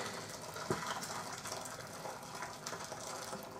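Water pours steadily from a jug into a pot of pasta, making a continuous close gushing and splashing without any talk.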